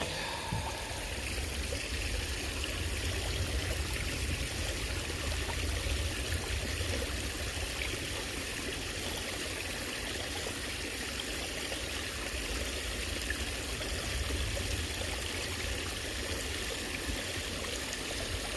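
Water washing gravel around a gold pan makes a steady, close, continuous sloshing and trickling with no pauses and no talking.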